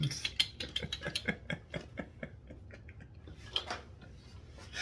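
Hand crank on a popup trailer ratcheting in a rattly run of quick clicks, fairly close, slowing toward the end with no talk over it.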